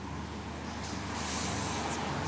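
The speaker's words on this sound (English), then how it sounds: "we'll do a little spray here of honey goo" Kleen Flo Honey Goo lubricant sprays from an aerosol can in a brief soft hiss, starting faint and swelling to a steady burst before tapering, heard close up over a low background hum.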